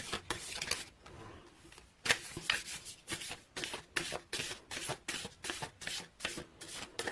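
A Whispers of Love oracle card deck being shuffled by hand, close by, in a quick run of crisp papery riffles and slides with short gaps, no voices.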